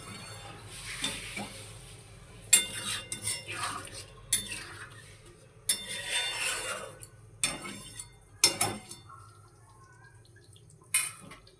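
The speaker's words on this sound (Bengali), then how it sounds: "কমিয়ে কমিয়ে মশলাটা কষবে ভালো করে।" Spoon scraping and clinking in a pan as masala is stirred and fried in oil for a fish curry with kohlrabi and potato, with irregular metallic clatters and a soft sizzle between them, fairly close.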